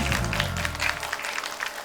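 A television studio audience claps in a dense, steady patter after a magic trick, with a brief low rumble at the start before the applause carries on evenly at moderate volume.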